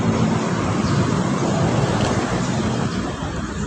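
Dense city road traffic rumbles near Buendia Avenue in Makati, a steady broadband roar of many passing vehicles heard close and loud, with a slight easing toward the end.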